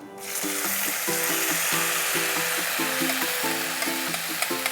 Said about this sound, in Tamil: அந்த விழுது சேர்த்துட்டு லைட்டாக ஒரு வதக்கிடுங்க